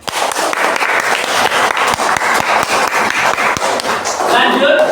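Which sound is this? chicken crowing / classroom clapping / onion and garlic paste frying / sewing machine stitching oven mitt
classroom clapping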